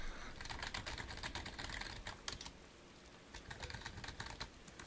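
Rapid keystrokes on a computer keyboard while typing input into a simple calculator program, a steady close clatter of many small clicks with a brief pause partway through.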